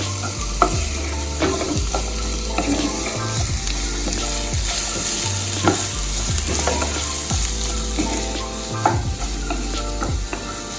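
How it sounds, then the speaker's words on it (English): Vegetables for escovitch fish sautéing in a hot pan, with a loud continuous sizzle and repeated scrapes and knocks of a utensil stirring them. The sound is close and steady, with no voices. "I'm gonna saute the vegetables first before we put in"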